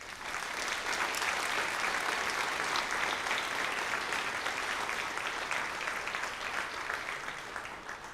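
Sustained audience applause at a high school scholarship and awards ceremony for two award recipients, steady and dense clapping filling the room for about eight seconds without a break.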